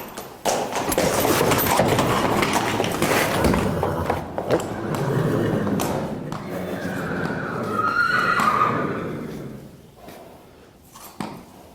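A horse whinnies loudly and close, a long rising-and-falling neigh followed by snorts and a few hoof thumps, with a handler nearby.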